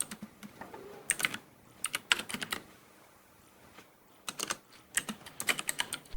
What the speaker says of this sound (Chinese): 这就是键盘打字音效。